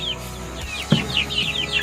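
Catbian hens, young future breeding stock in a backyard village-chicken pen, cluck and call repeatedly, with chirpy higher calls over steady low background noise and one brief louder thump.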